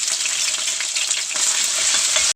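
Ginger, garlic and green chilli frying in a pan give a loud, continuous bright sizzle with light crackles, close and steady until it cuts off abruptly.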